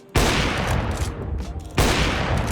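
Two loud bursts of rapid gunfire in the video game Counter-Strike 2, the first starting abruptly and the second after a brief pause, each with a dense, crackling roar.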